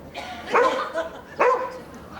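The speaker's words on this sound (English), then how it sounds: "Did you have to bring the dog?" A dog barks twice at close range in a British sitcom scene, with two sharp barks about a second apart over a low background hum.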